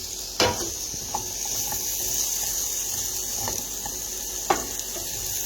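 Sweet potatoes for hash fry in oil in a pan, left unstirred to brown: a steady soft sizzle runs throughout, broken by a couple of sharp clanks, and no one speaks.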